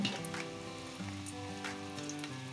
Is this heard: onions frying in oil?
yes